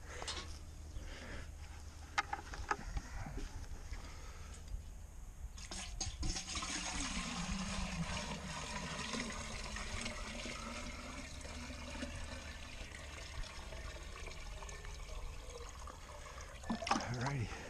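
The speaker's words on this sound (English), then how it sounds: "Okay, some more water in there." Water poured into a tomato planter outdoors, a continuous splashing and gurgling trickle that runs steadily for several seconds, close by and fairly soft.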